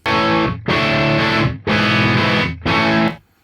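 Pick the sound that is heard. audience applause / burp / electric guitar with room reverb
electric guitar with room reverb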